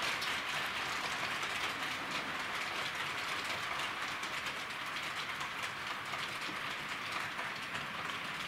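A Heljan class 33 diesel model locomotive, number 33025, runs with a faint, even mechanical hum and light rail clatter that holds steady throughout.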